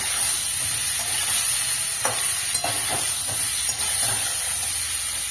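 Cauliflower florets fry in hot oil with a pinch of turmeric over a high flame, giving a steady loud sizzle with a few soft clinks of stirring scattered through.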